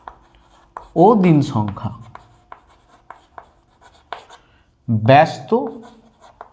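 Someone writes on a board during a Class 5 maths lesson: short scratchy strokes and taps come between stretches of a teacher's speech.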